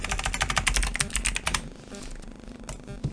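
Rapid typing on a desktop computer keyboard, a quick run of crisp, close key clicks for about a second and a half, then a few scattered lighter taps.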